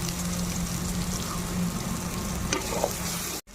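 Turmeric and chili powder fry in hot oil for a fig and potato curry, giving a steady, close sizzle that runs evenly throughout and cuts off abruptly near the end.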